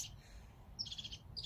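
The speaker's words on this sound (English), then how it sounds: "listening deeply to the birds" Birds sing in short bright chirps, faint and somewhat distant, with a brief trilling phrase near the end over a quiet low background hum.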